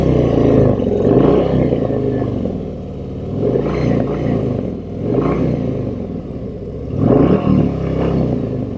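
A 2023 Harley-Davidson Street Glide CVO engine rumbles loud and close with a deep, throaty roar, swelling in several revving surges over a continuous growl.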